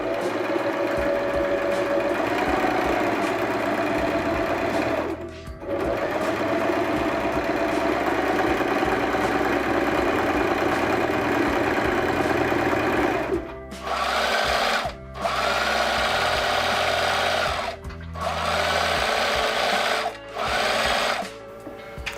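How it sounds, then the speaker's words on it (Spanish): A Singer sewing machine running a long, loose-tension straight stitch on fabric for a peasant skirt, whirring steadily and close, with a few brief stops and restarts in bursts toward the end. "lo que voy a hacer es con la máquina en puntada recta, una tensión flojita y la puntada más larga que tenga"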